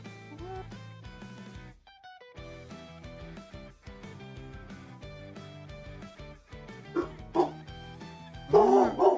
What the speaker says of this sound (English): I heard the barks. He's barking.